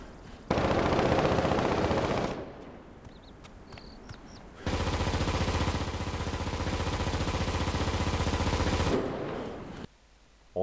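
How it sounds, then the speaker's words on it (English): Sustained bursts of rapid video game machine gun fire from Enlisted rattle continuously, pausing briefly before another long volley, with a dense, slightly distant battlefield sound. "Just listen to the machine gun fire in the distance."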